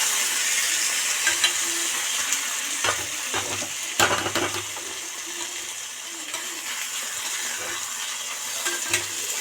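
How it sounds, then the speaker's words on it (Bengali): Taro greens sizzle softly in a pan after a little water is added, as a spoon scrapes and taps now and then, with a steady hiss of frying underneath. "বেশি জল দেবেন না জাস্ট নিচে লেগে যায় না যায় বলে আমি জলটা দিলাম"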